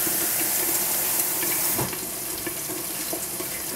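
Tap water runs steadily into a sink around a cooking pot set in cold water to cool after making yogurt or tofu, a continuous close splashing flow with a brief clatter partway through and no talking.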